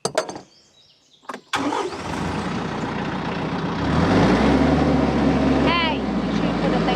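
A TYM tractor engine idles with the PTO switched on, a deep steady rumble that swells louder partway through after a few knocks and a short voice at the start.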